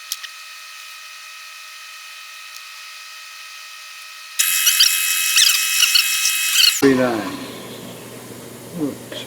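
After a faint steady hum, a high, loud whine of a center drill cutting holes for a drill jig starts and runs for a couple of seconds, then cuts to low rumbling.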